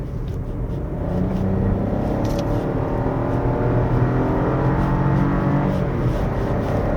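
A 2025 Chevrolet Trax Crossover RS pulls away, its engine note rising in a steady droning hum heard from inside the cabin, with road rumble building beneath it.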